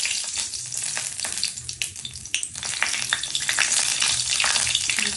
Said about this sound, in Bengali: একটা শুকনো লঙ্কা দিচ্ছি, শুকনো লঙ্কা দিয়েছি, আর তেজপাতা দিচ্ছি।